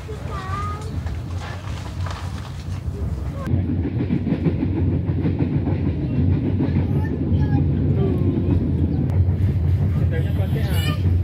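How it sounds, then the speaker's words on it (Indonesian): A train rumbles and rattles past on the rails near Jatinegara, Indonesia, a steady loud roar with faint clacking, and voices murmur underneath at first. "Masuk Jatinegara, keretanya malah balapan sama KRL."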